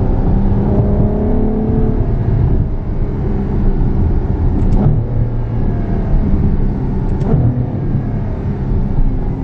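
A Ferrari F12 Berlinetta's engine drones loudly and steadily, a dense sustained roar of hard acceleration heard from inside or near the car, with no talk.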